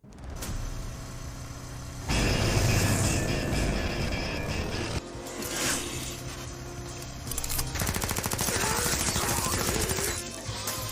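Rapid automatic gunfire from an anime action scene, loud dense bursts of machine gun fire layered with music and effects, shifting in intensity across the clip with no talking.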